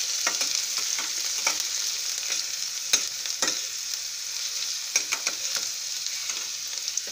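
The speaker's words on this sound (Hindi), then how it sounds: "प्याज को ज़्यादा लाल नहीं करना है, बस इतना करिए कि इसका कच्चापन जो है वो" Onions frying and being stirred in a pan for a savoury vermicelli upma, a steady close sizzle with repeated sharp scrapes and clinks of the spoon against the pan throughout, no voices.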